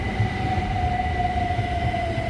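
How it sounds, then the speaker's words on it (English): Southeastern Class 375 electric train pulling into a station on the South Eastern Main Line, a steady rail rumble with a sustained high whine from the traction motors, close and moderately loud, with no voices. "As approaching in here is the 1030 Southeastern service from London Charing Cross to Hastings, being led by 375905 and 906."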